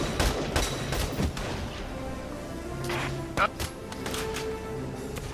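Gunfire from a tank battle on an icy battlefield in the Valkyria Chronicles 4 video game, several sharp shots and bursts at irregular intervals over a busy game soundscape, with a player talking at moments.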